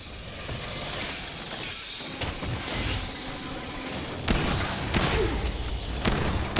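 Sniper turret in Aliens Fireteam Elite firing slow, heavy shots amid a dense wash of game gunfire and combat noise, with several sharp loud reports near the middle and end.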